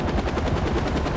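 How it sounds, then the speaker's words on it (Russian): A helicopter in the video game Far Cry 4, in a Himalayan setting, gives a loud, close, rapid rhythmic rotor chop that pulses evenly throughout the brief moment, with no speech. "Вертолет."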